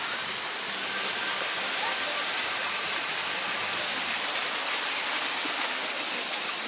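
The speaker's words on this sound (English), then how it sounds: "it's not the biggest waterfall I've ever seen or ever been to, but it still is extremely tranquil" A small waterfall in Rishikesh, India pours in a steady, loud hiss of rushing water, close and unbroken throughout.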